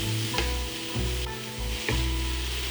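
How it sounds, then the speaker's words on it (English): Carrots and peppers sweat in a pot for a one-pot vegetarian brown rice and chickpea pilau: a steady low sizzle with a few sharp stirring scrapes, close and alone without talk. "Add the rest of the vegetables, carrots, and the peppers. Sweat these for a minute."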